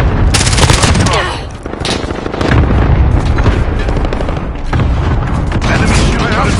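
Call of Duty: Modern Warfare gunfire crackles in dense automatic bursts and booms, loud and close, mixed with in-game radio voices.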